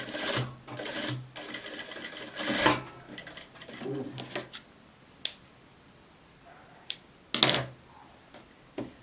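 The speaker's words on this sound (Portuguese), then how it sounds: "Aí vem aqui e passa uma costurinha." A sewing machine stitches a seam on a blouse in short rapid bursts, close and clattering, then gives way to a few sharp clicks and quiet handling.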